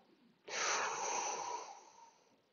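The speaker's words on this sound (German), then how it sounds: "Wir atmen in den Bauch" One long, deep breath drawn in through the nose during a breathing exercise: a close, airy inhale that starts abruptly and fades out over about two seconds, heard alone.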